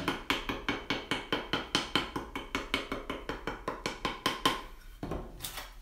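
A paddle taps a round clay pinch pot orb in a fast, even series of about two dozen crisp knocks, close and clear, before stopping with a brief shuffle at the end.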